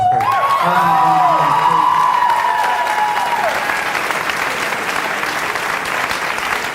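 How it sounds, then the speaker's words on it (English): A room full of people at a diversity monologues event breaks into loud, sustained applause with scattered cheers and whoops. The clapping stays dense and close throughout. "So let's also give Mike Benitez a round of applause."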